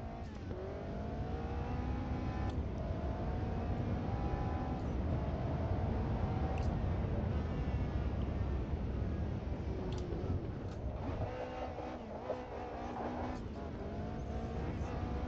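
A car engine in a VR racing simulator game drones and revs steadily, its pitch rising and falling through gear changes with a continuous, moderately loud hum.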